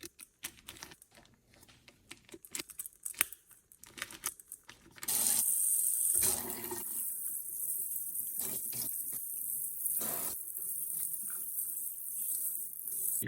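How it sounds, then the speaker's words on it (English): Tap water runs into a kitchen sink as a raw beef prime ribeye is rinsed, a steady splashing stream that starts halfway in and continues alone, after earlier small clinks and handling noises. "Make sure the sink is clean, wash it off in there, get it in the pan, dry it down"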